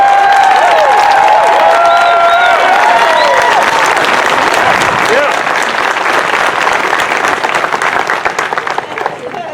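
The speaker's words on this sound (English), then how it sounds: "If you guys can welcome him with a big applause." A crowd on a city hall lawn at a justice rally applauds and cheers loudly, clapping dense and sustained, with shouts mixed in, gradually thinning toward the end.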